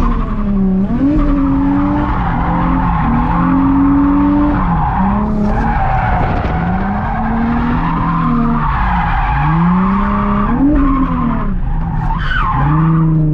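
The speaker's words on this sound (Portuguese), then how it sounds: "Tem que chegar no final, puxar o freio de mão e acelerar aqui" A car drifts with the handbrake pulled, its tires skidding and squealing in long sweeping wails over a loud, constantly revving engine, close and sustained throughout without any talk.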